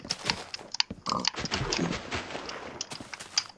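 Pig oinking in the Minecraft video game, a few short grunts under busy in-game footsteps and other game sounds, close and moderately loud.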